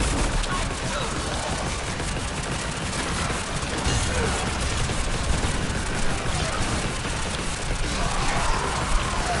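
Enemy Thrax soldiers in a video game fire continuously, a dense, unbroken rattle of gunfire and crackling bursts filling the whole stretch at steady loudness.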